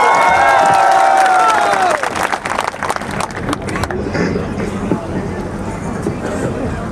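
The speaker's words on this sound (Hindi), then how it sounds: "जोरदार ताली के साथ स्वागत" A crowd at a protest rally in Niwai, Tonk, claps and cheers loudly to welcome a young leader, with a voice over loudspeakers at first and crowd babble continuing after the ovation peaks.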